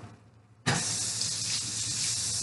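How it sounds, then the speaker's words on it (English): A kitchen tap is turned on and a spoon is rinsed under it, giving a sudden, steady splashing hiss of running water that stays loud and close after a quiet start. "And then I'm gonna rinse my spoon."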